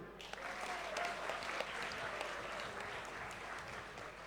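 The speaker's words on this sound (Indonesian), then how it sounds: "Beri tepuk tangan dulu." Applause from the audience of guardians and students at a graduation and santri inauguration ceremony in an Indonesian Islamic boarding school hall. The clapping is steady, dense and moderately distant, and a faint voice sits under it.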